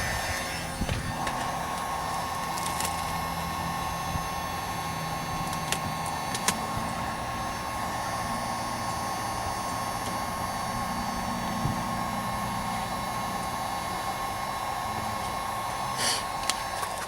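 A heat gun blows a steady, even hiss with a faint hum beneath it as it warms vinyl wrap film on a BMW 328i F30 rear diffuser, running close and continuously with a few small clicks.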